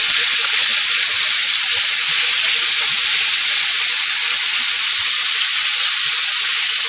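Meat sizzling as it goes into a hot pot, a loud, steady, hissing fry that holds evenly throughout with no talk over it.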